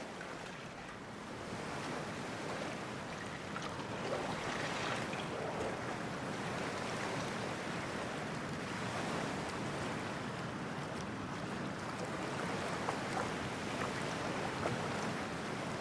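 Cold, toxic ocean water in Cyberpunk 2077 gives off a steady broadband wash of surf and wind noise, continuous and fairly loud throughout with no voices.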